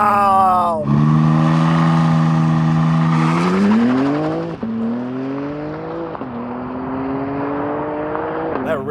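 A 2025 BMW M4 CS launching hard under launch control, its engine revving high then pulling through gear changes with loud, close rising tones and brief dips at each shift, with people exclaiming over it.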